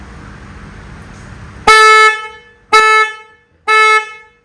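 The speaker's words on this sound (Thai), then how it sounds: "ต่อไปมีแตรครับ" Three loud horn honks in a row from a Harley-Davidson Road Glide motorcycle, the first about half a second long and the next two slightly shorter, bright and close, with no voices.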